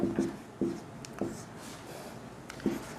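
Pen writing a math note on paper, soft scratchy strokes in short repeated bursts, quiet and close with faint room noise between strokes.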